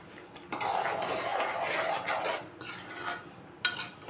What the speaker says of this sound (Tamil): நல்லா கிளறி விடணும்